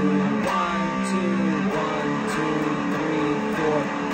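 Electric guitar chords from the chorus of a song, played at a steady rhythm with sustained, overlapping notes and changing harmony, loud and close, no voice over it.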